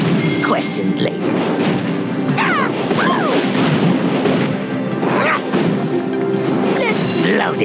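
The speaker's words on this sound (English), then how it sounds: "Explosion first." Repeated explosions and crashes from a mobile video game, bursts of smashing and booming impacts with whooshes, layered over constant game noise and effects.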